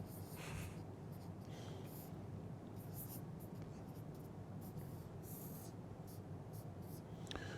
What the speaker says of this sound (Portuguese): Vou desenhar um circuitinho aqui.